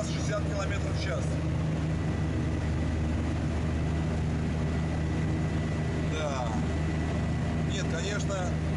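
A MARS-10 air-propelled hovercraft boat runs its engine at about 3000 rpm while travelling at around 60 km/h, making a loud, constant droning roar with a steady tonal hum, and people talk over it.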